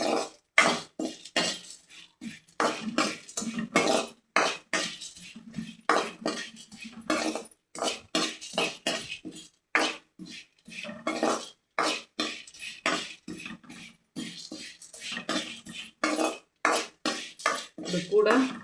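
Broken Maggi noodle pieces being mixed into bhelpuri in a bowl, a dense run of quick clinking, scraping stirring strokes, close and fairly loud, with short pauses between bursts and no talking.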